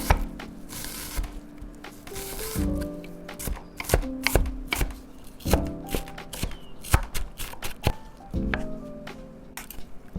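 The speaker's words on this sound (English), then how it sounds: "Slice the onion vertically about 1/4 inch apart." A knife slices through an onion half on a cutting board in quick, steady vertical cuts. Crisp close taps repeat in bursts under soft background music.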